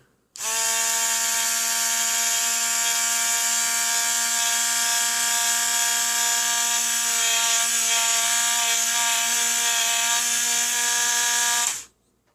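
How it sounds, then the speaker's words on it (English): Light buffing of the cylinder of a North American Arms mini revolver with a power buffing wheel, a loud steady high-pitched whir with stable harmonic tones running about eleven seconds before stopping abruptly. "That's just a little light buffing."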